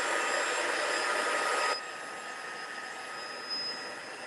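Heat tool blowing hot air to dry gauze during cardmaking, a steady loud close whoosh that drops to a quieter, continuing hiss after about two seconds.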